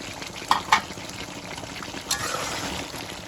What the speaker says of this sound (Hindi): अब इसमें मैं आलू शामिल कर देती हूँ।